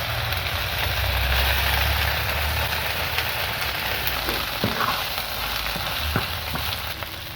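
Ghetkol leaf paste frying in a pan, a steady close sizzle with soft stirring scrapes and a few small taps, no talking.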